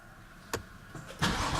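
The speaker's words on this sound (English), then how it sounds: "I'm just going to hop in here and fire up the car because I want to hear how it sounds in the M2." AC Schnitzer ACL2, a BMW 2 Series fitted with a 570 hp M4 engine and an aftermarket back box, cranking briefly and then firing up with a loud, sharp bark close by.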